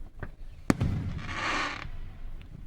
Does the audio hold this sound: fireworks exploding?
yes